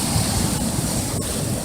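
Ocean surf rolls and crashes against rocks at Crescent Beach in Saint Augustine, Florida, a loud, continuous roar of water close by mixed with wind buffeting, with no voices.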